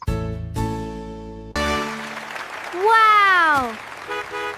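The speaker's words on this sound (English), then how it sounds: "The school bus takes children to school. Honk, honk." A school bus horn gives a pair of long, steady honks, then a voice follows over a quieter background.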